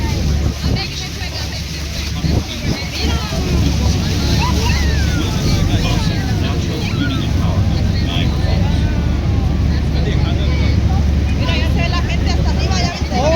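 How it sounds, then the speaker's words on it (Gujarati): Strong wind buffets the microphone over the constant rush of Niagara Falls, with voices faintly audible beneath the roar. "અહીંયા પવન પણ કેવું આવે છે."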